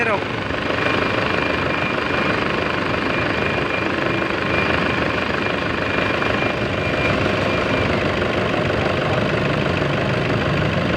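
A Toyota Fortuner 3.0 engine with a newly fitted alternator pulley idles steadily and smoothly, a continuous close-up drone with a low rumble and no talking.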